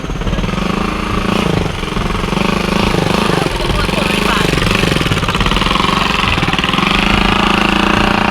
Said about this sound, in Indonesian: Awas, mau ada motor lewat.